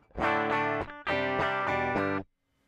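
Electric guitar run through a Boss Gigcaster 8's built-in GT effects, giving a distorted, chorused tone; two loud sustained chord strums, the first briefly cut short, then a ring-out into near silence.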